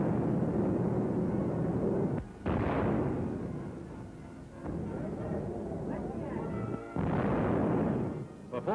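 A new battleship's 16-inch and 5-inch guns firing salvos during gunnery trials: heavy, rumbling blasts and booming bursts that roll continuously, with someone narrating over the gunfire.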